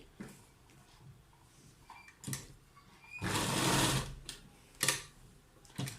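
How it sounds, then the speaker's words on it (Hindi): A sewing machine stitches a decorative kurta neck, with short bursts of stitching and one longer run of about a second, close and clear with no talking. "और इसी तरह हम पूरे में सिलाई लगा देते हैं।"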